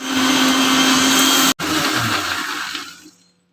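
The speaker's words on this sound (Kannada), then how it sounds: "ಶುಂಠಿ, ಬೆಳ್ಳುಳ್ಳಿ, ಮೆಣಸು ಪೌಡರ್, ಜೀರಾ ಪೌಡರ್, ಹಸಿಮೆಣಸಿನ್ಕಾಯಿ, ನೀರು ಹಾಕ್ಬಿಟ್ಟು ಫೈನ್ ಪೇಸ್ಟ್ ಆಗೋವರೆಗೂ ರುಬ್ಕೊಳ್ಳಿ" A mixer grinder runs loud and steady, grinding ginger, garlic, green chillies, chilli powder, cumin powder and water into a paste. It cuts out briefly, restarts, then winds down to silence.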